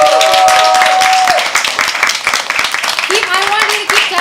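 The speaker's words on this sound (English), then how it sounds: "I want you to keep clapping until you get in." An open mic poetry audience claps steadily for an arriving poet, a close, dense patter of many hands lasting the whole stretch, with voices calling and talking over it.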